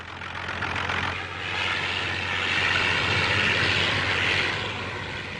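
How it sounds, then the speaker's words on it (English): A propeller-driven party campaign plane hedge-hopping low over political rallies, heard as a steady, fairly loud droning engine roar that swells and holds for several seconds with no talk. "He used the party plane on the campaign and also to scatter left-wing rallies by hedge-hopping over them."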